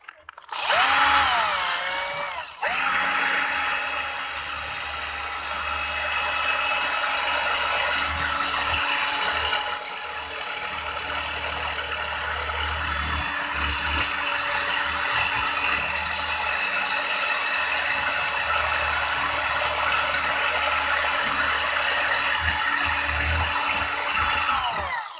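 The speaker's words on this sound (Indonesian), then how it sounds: "kenapa saya menggunakan bor atau mata bor untuk melubangi di sini?" A power drill bores holes through a burnt, damaged PCB, its steady high-pitched whine running loud and continuous with a brief stop near the start, plus faint ratcheting and grinding as the bit cuts the charred board.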